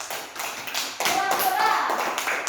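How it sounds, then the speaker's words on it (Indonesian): Schoolchildren in a classroom clap together in a brief burst of quick, uneven claps, close and fairly loud, with a voice mixed in. "Tepuk tangan dulu untuk kita semuanya."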